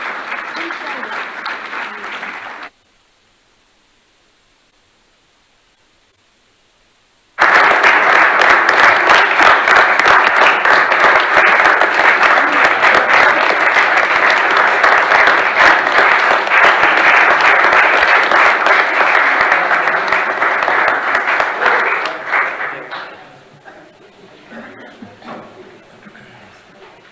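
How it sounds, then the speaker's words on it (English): Audience applause honoring a women's sports coach at a sports talk event, starting with a short burst, then a gap of near silence, then a long loud sustained ovation that fades toward the end. "let's give Coach Teresa Phillips another round of applause"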